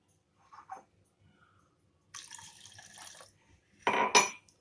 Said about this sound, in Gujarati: થોડું આપણે એમાં પાણી એડ કરીશું.